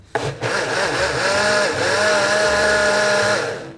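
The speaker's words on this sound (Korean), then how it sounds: "룰의 농도가 나올 수 있게 블렌더로 갈아 주겠습니다" A blender whirring as it purees soup with roux, a loud, steady motor drone that starts abruptly and holds with a slight rising pitch, close and continuous.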